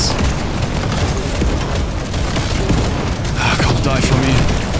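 Explosions and gunfire from the Deep Rock Galactic Survivor video game form a loud, dense wall of booms and rapid pops that continues throughout, with occasional brighter bursts near the end.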